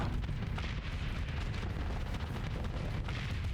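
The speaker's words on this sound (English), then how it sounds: "Oh, that's just 4 Hephaestus assault guns." Hephaestus assault guns fire continuously in the space combat game Starsector, a dense, rumbling barrage of heavy booms that blur into a steady roar, loud and close with no pause.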